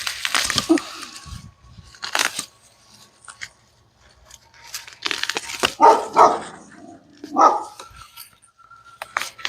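Neighbor's dog barking outdoors in a backyard, several sharp barks in scattered bursts with quiet gaps between, moderately close.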